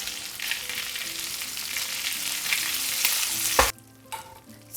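Fish sizzles steadily in a pan of butter and lemon juice sauce over residual heat, a bright continuous frying hiss with light stirring scrapes, ending in a sharp clack followed by quieter sputters.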